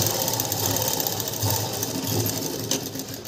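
An electric sewing machine stitches a blouse lining for a kaja patti, running in a steady, fast, continuous whir close to the listener.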